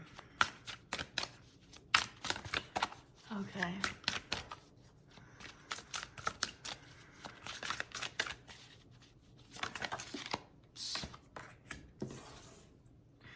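Large oracle cards being shuffled by hand, a steady run of crisp flapping riffles and soft sliding rubs close by, with a brief spoken word and quiet talk between bursts.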